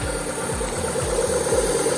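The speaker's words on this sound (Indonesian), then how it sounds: "mesin sudah menyala" An engine runs right after starting while powering a Power Sure voltage stabilizer setup, a loud near idle with a steady rhythmic low thumping pulse.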